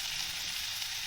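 Pumpkin with bay leaf sizzles steadily in hot oil in a pan, a close, even crackling hiss with no voices.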